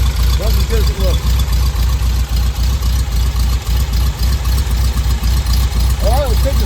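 An Edmondson Volkswagen Karmann Ghia engine idles and runs with a steady low throbbing rumble, close and loud, with brief squeaky chirps near the start and end.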